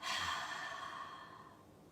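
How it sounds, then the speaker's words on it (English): A deep breath out through the mouth as part of a guided breathing exercise, a soft airy exhale that fades over about two seconds. "let's take our exhale in 2 puffs like this"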